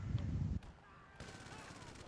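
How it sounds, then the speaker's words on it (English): Gunfire in the video game GTA 5, a heavy rumbling burst of shots up close that breaks off, then a thinner steady crackle of distant fire continuing underneath. "Who's that shooting at me?"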